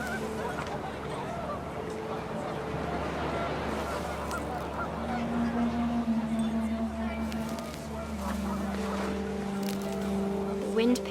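Panicked geese from the video game What Remains of Edith Finch honk repeatedly in a windy outdoor scene, the calls riding over a steady rushing background with brief higher squawks; a voice speaks underneath.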